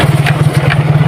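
Motorcycle engine rumbling at low speed on a slippery road, a loud, close, steady low throb with a regular pulsing beat and no talk.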